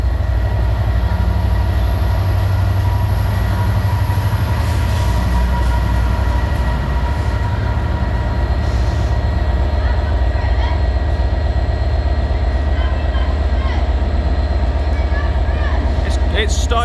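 A train moving at Shrewsbury station among Class 153, 158, 196, 197 and 67 units, with a steady, loud rumble and hum throughout and people talking nearby over it.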